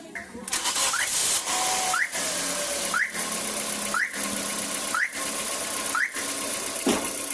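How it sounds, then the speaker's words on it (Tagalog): A car engine runs at a steady idle with a hood open during a coolant flush, its rumble under a hissing whine and a regular chirp repeating about once per second. "So start ko na itong makina mga paps."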